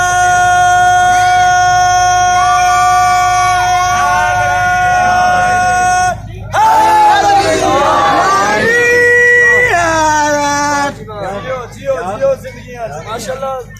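A crowd at a Shia majlis for the 20 Safar mourning gathering shouts religious slogans in loud, rising bursts of massed voices, led by a chanting voice, then breaks into scattered yells.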